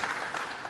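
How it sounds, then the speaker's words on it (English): Conference crowd at a Bitcoin business event applauding, a brief dense wash of clapping throughout, fairly loud and with no talk. "Round of applause for the Bitcoin Business Hub in Madeira, soon to be opened."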